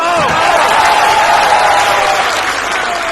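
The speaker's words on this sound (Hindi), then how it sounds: "तालियां बजाओ" Loud, sustained applause from an audience at a political rally, dense clapping filling the whole stretch with crowd noise underneath.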